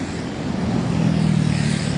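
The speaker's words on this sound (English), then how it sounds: "I'm assuming the traffic noise is probably pretty bad too." Road traffic near the SRP Baywalk gives a steady, fairly loud broadband rumble, with a low engine drone that builds midway as a vehicle passes close. Nobody talks.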